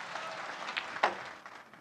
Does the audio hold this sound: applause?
yes